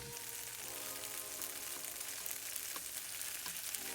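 Tofu fries in a pan of hot oil until golden and crispy, giving a steady, close, dense sizzle and crackle with no talk.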